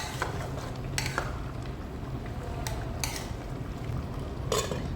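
A spoon stirs duck meat and potatoes together in a cooking pot. Intermittent metallic scrapes and clanks sound over a faint low simmer, with no voices.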